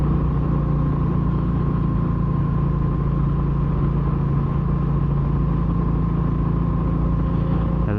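A Royal Enfield Classic 350 motorcycle running on a Kentucky backroad near Richmond, its single-cylinder engine giving a steady, loud, continuous hum at a constant pace throughout.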